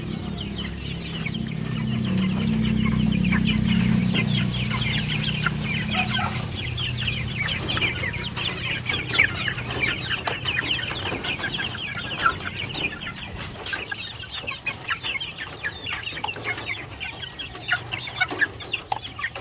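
A sick chicken and others cluck continuously nearby, a steady chorus of short calls over a low background hum that fades after a few seconds.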